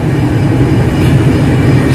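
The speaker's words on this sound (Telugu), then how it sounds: "ఇప్పుడే ట్రైన్ అయితే రాజమండ్రిలోకి ఎంటర్ అవుతుంది." The Visakhapatnam–Gudur superfast express 20851 pulls into Rajahmundry station, heard from on board as a loud, close, steady rumble of rolling wagons with a faint clatter of wheels and no talking.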